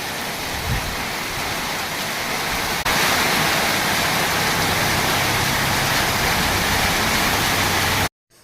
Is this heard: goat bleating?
no